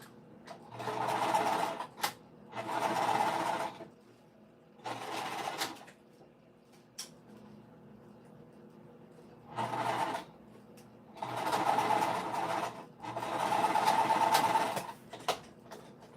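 Domestic sewing machine stitching a fabric winter crescent bag with its regular presser foot, running in several loud bursts of steady motor whir separated by short pauses.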